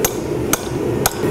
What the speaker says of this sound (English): and a little more hammering